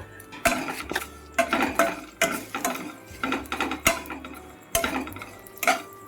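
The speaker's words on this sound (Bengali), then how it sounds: "একটু লাল লাল করে ভাজতে হবে সিমুইটাতে।" Vermicelli being stirred and fried in a pan with bay leaf and whole cardamom: a utensil clinks and scrapes against the pot in irregular knocks, close and fairly quiet.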